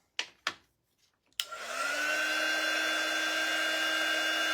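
A hair dryer switches on after a few soft taps and handling noises, then blows with a steady, loud whirring hum while drying a painted craft door hanger, close and uninterrupted to the end.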